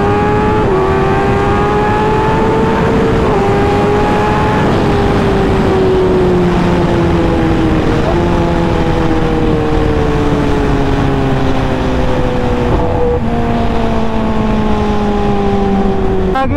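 Kawasaki Ninja H2 and other motorcycles ride fast on an open road, engines loud and close, pitch climbing with each gear and dipping at every shift, alongside steady wind rush.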